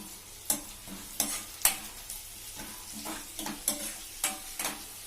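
Garlic paste frying with onion in a pan sizzles quietly while a spoon scrapes and stirs in repeated sharp strokes, a rhythmic series of clinks and scrapes close by, with no voices.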